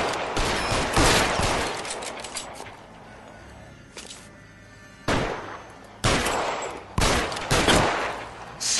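Video game gunfire rattles in several loud bursts of rapid shots, separated by quieter gaps, with a few shorter volleys near the end.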